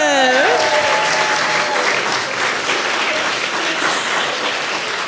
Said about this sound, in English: let's have a massive round of applause for Graham, ladies and gentlemen